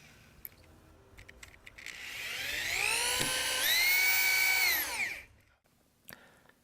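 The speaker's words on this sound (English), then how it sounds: "Now secure the 3 support beams with 2 3-inch screws per end." A power drill drives screws into the wooden support beams of a skateboard halfpipe, one long whining run that rises in pitch, holds steady and then winds down, close and alone.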